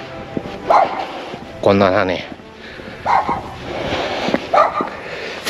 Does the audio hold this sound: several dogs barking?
yes